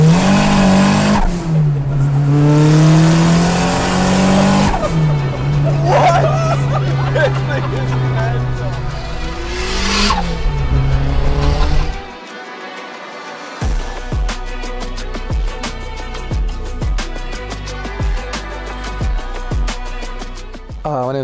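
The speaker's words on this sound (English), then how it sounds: "driving a 1970 Datsun 510 station wagon, as you can see" A 1970 Datsun 510 station wagon with a big turbocharged KA24 engine revs and accelerates hard with tire squeal, then drops to a rough, pulsing idle with crackling exhaust, while voices talk nearby.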